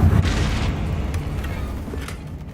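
A Confringo blasting spell from Hogwarts Legacy goes off with a deep, loud boom at the start that rolls into a rumbling decay, mixed with game ambience.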